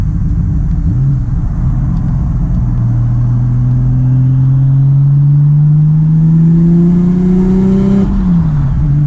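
A Nissan R33 Skyline engine pulls in fourth gear from inside the car, a loud, steady drone rising smoothly in pitch as it accelerates, then easing off near the end over road rumble.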